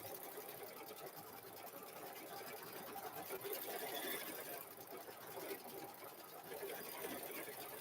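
A sewing machine hums steadily while quilting a cow-themed quilt, running continuously at an even pace with a soft background hiss.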